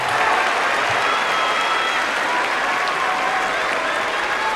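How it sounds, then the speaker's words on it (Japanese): Sustained applause fills a sumo arena during the Kyushu Basho tournament as wrestlers prepare for a top-division bout, a dense, even wash of clapping from a large crowd throughout. "館内が大きな拍手に包まれます。"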